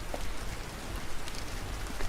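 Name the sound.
heavy rain falling, cartoon sound effect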